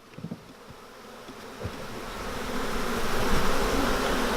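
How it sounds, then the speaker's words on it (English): Honeybees swarm at the bottom of a hive after being shaken down, a dense buzzing hum that swells steadily louder, with a few brief knocks near the start. "Look at all the bees forming down here at the bottom, trying to get in, trying to get into the party"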